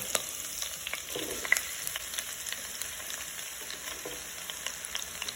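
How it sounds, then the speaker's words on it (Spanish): Onions sizzle in melted butter and a little oil, a soft steady crackle of frying with scattered pops and light stirring, no voices. "Una vez derretida la mantequilla, añadimos nuestra cebolla."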